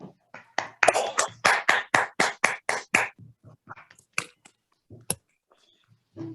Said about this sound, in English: give him a good round of applause as a gesture of thanks to him